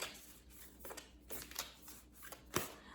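Oracle cards being shuffled by hand, a series of soft papery riffles and flicks in uneven bursts, close but quiet with no talking.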